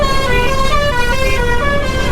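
A vehicle horn blares continuously in busy morning road traffic on a long motorbike ride through India, a loud, sustained, multi-toned honk heard close by for the whole stretch.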